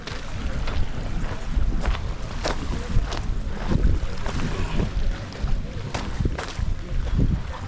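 Sea at a secluded spot in Ibiza, Spain: a steady wash of waves against the shore mixed with gusty wind buffeting the microphone, with occasional louder surges and no one talking.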